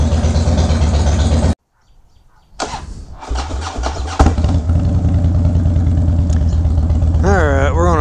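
Harley-Davidson 2011 Wide Glide motorcycle engine idling close by, a steady low rumble that cuts out briefly, then resumes with a few throttle blips and settles back into a loud, even idle.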